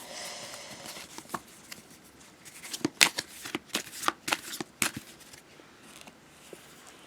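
Tarot cards being shuffled by hand up close, a series of quick riffling, slapping bursts that grow busier midway through, with no talk over them.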